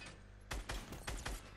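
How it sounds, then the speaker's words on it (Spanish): Gunfire in a shooter video game, a quick burst of four or five sharp, heavy shots in uneven rhythm, loud and close, with no talk over them. "Un tiro, dos tiros. Uno en cabeza y otro en cuerpo."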